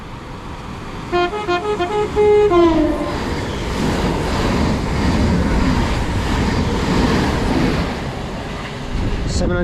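A Class 700 passenger train heading from London King's Cross to Cambridge passes through Hadley Wood station on the East Coast Main Line, with a few short horn toots followed by a loud, sustained rushing roar as it goes by close.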